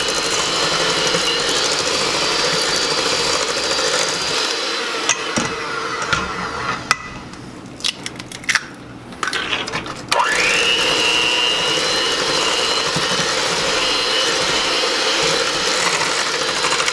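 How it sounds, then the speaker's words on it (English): An electric hand mixer whirs steadily while beating eggs one at a time into pineapple upside-down cake batter, with brief pauses and clatter midway before the loud, even motor hum resumes. "we're gonna mix the eggs in and beat them one at a time"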